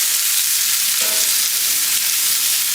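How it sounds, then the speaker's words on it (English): Fajita vegetables sizzle steadily in a hot pan with a faint scrape of stirring, a constant close hiss running evenly throughout with no voices. "just give these a little bit of a stir."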